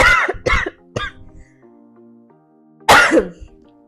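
A person with a cold coughs three times in quick succession, then pauses before one more loud, harsh cough, close by with faint background hum.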